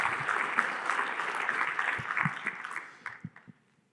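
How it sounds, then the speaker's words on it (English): Audience applause for sponsors at a commercial real estate outlook conference, a moderate round of clapping that tapers into a few scattered claps before stopping. "So nice round of applause for all of our sponsors"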